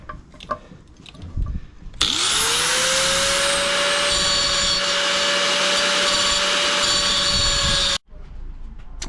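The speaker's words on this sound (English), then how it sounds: "So I have done quite a bit of grinding now." A grinder works on a Fantic XEF 250 motorcycle brake lever, a loud, steady high-pitched whine that starts abruptly, spins up and holds for about six seconds before cutting off, with quieter workshop noise around it.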